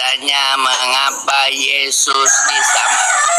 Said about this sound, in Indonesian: tadi soalnya ada ayam berkokok